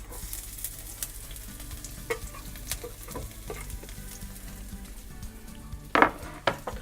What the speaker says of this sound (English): Now let's start slowly putting pepper and garlic into the chili,